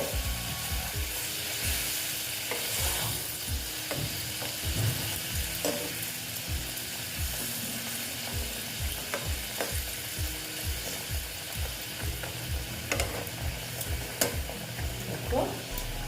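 Ash gourd curry cooks in a pan with a little added water, a steady low sizzle and bubbling broken by repeated scraping and stirring clicks, moderately quiet and without talk.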